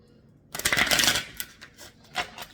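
Tarot cards riffle in a dense, close burst of papery shuffling, followed by a few softer, separate flicks and taps as the deck settles.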